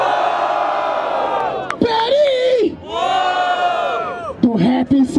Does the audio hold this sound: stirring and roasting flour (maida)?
no